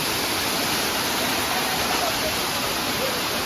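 Waterfall at the Mahakali temple in Saravana, a loud, steady broadband roar of falling water filling the whole moment without pause.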